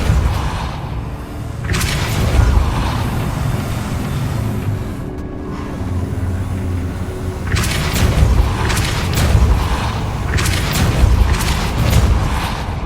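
Confringo blasting spell in the Hogwarts Legacy video game, loud booming blasts with whooshing bursts, the clearest cluster coming in rapid succession late on, over a rumbling game backdrop.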